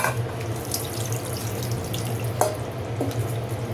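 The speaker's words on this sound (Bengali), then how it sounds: "পানি দিয়ে দিচ্ছি" Water poured from a tap into a cooking pot of beef, a continuous steady gush with a constant low hum and a few sharp clinks, close and fairly loud.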